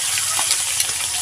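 Fish frying in a pan gives a steady, close, crackling sizzle with no pauses over a brief moment.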